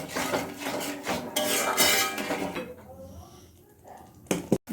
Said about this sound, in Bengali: জল দিয়ে ভালো করে মশলাটা কষিয়ে নেব।